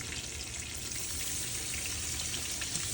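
Butter melting in a pan for gravy makes a steady, even sizzle with faint crackle, holding at one level throughout at moderate loudness with no voices.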